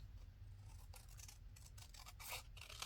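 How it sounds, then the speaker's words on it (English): Scissors cutting paper for a handmade ephemera envelope, a few quiet crisp snips spread across a few seconds over a faint low hum, close but soft. "Let me cut this off."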